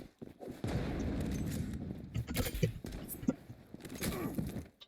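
Gunfire in the shooter game Zula crackles in quick, clustered bursts with sharp individual shots, fairly faint, under a man's brief muttering.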